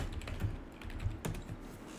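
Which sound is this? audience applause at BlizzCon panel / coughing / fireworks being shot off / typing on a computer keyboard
typing on a computer keyboard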